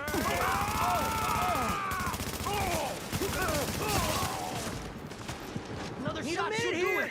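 Gunfire in The Division video game during a global event firefight, dense bursts of shots and impacts running throughout with electronic game effects and alert tones layered over them.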